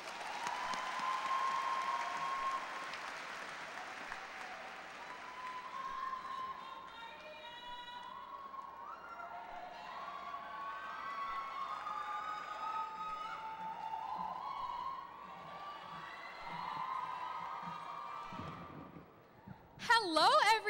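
High school graduation crowd applauding and cheering at a distance, a moderate, faint roar with scattered shouts and voices mixed in, dropping off near the end.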